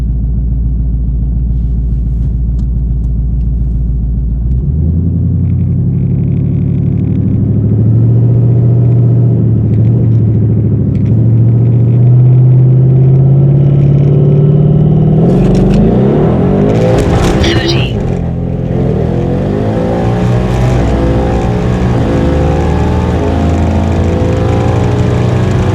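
A Hellion twin turbo Mustang at the drag strip on a high boost setting idles with a loud rumble, then its engine climbs in pitch as it launches down the quarter mile, roaring close by before breaking up into messy, uneven noise.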